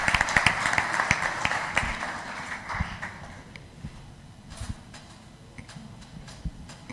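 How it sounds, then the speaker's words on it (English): Applause from an audience at a regional state-of-the-region address, welcoming the next speaker, a woman from the Ethiopian cluster, with dense clapping that is strongest at the start and thins out. "Please, let's welcome her with a warm clap."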